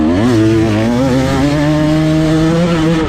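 GasGas 2024 two-stroke enduro motorcycle held at full throttle in a fast, wide-open stretch, its loud, close engine whine climbing steadily in pitch through a long gear with no break and no talk.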